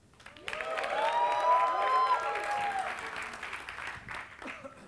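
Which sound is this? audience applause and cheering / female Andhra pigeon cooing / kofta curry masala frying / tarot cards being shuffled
audience applause and cheering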